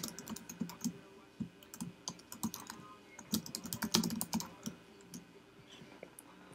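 Steady typing on a computer keyboard close up, irregular clusters of quick clicking keystrokes with short pauses, no talking over it.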